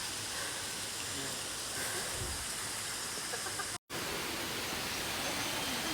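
Water flowing at the Lawakhola drinking-water spring source in Nepal, a steady, dense rushing wash that fills the whole clip with little variation.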